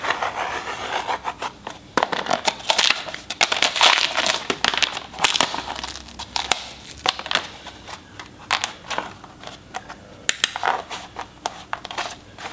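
Vinyl LVT flooring plank being cut by hand with a knife, giving close, irregular scraping and crackling strokes that come in bursts over roughly twelve seconds, with no talking.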